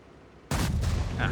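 WZ-120G FT tank destroyer firing its gun in a tank video game, one loud sudden blast followed by a rumbling, ringing decay with a faint higher tone near the end.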